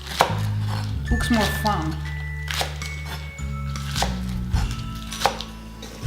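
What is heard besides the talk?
chopping onions with a knife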